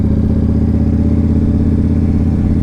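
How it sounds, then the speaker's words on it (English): A Yamaha Raider motorcycle with stock pipes and the baffles removed idles loud and close, its deep, throbbing exhaust rumble holding steady throughout with no talking. "These are stock pipes with baffles taken out. Sounds good."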